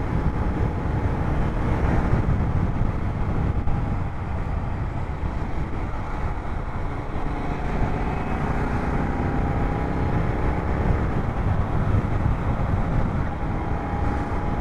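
Steady road traffic rumble heard from a Royal Enfield GT650 touring motorcycle on a light-traffic road, a continuous low roar with wind noise and no distinct passes.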